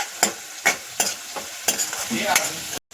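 Spice masala with coriander powder, turmeric and garam masala frying in oil for a village-style mutton kharda: a soft sizzle broken by several sharp scrapes of a spoon stirring in the pan, close, with no speech.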